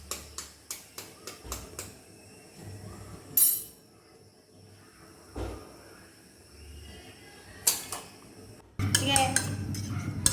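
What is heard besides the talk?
whisking egg mixture for eggplant omelette (tortang talong)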